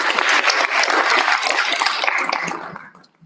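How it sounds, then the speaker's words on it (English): People at a school board meeting give a dense round of clapping for a student of the month; the applause stays strong and close, then quickly tapers off and stops at the end. "Another round of applause."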